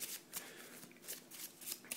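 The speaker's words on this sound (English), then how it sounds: "you'll shuffle it up" A 60-card trading card game deck is shuffled by hand, giving close, crisp bursts of riffling cards in a quick repeating rhythm with no talk.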